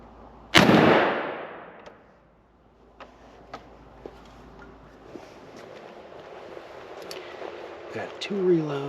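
A single loud, close gunshot from a grandfather's old gun being sighted in at 20 yards, followed by a fading outdoor echo, faint clicks of handling and someone talking quietly afterward.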